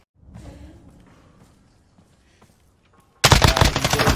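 Rapid video game gunfire bursts in loudly near the end, a dense automatic volley after a quiet stretch of faint thumps and footsteps.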